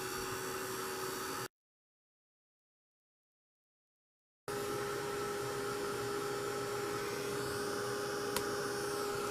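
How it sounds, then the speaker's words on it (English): Heat gun blowing hot air onto Little Golden Book tape to melt its glue: a steady, close whirring hum with airy hiss that cuts out completely for a few seconds, then resumes unchanged. "how I do that is just with a little heat from my heat gun"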